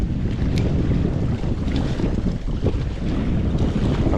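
Strong wind roars steadily across a lake shore, a loud, continuous low rumble of buffeting against the microphone with a faint wash of water underneath and no talk.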